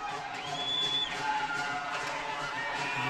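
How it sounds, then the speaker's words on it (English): Cheering from the St. John's RoofTech Sr Caps bench and fans at a senior hockey championship game in the arena, a broad steady crowd roar with a whistle-like tone near the start, sustained throughout. "cheering from the St. John's bench and from the fans"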